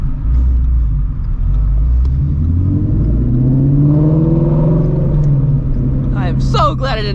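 A Ford Mustang engine revs close behind a Shelby GT350 on the road, a deep rising and falling rumble that swells through the middle and fades, under continuous cabin road noise with a person talking near the end.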